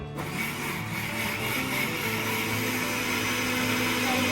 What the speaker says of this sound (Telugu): ఇప్పుడు వాళ్ళు మిక్సీకి కుస్తీ పడుతున్నారు అనమాట.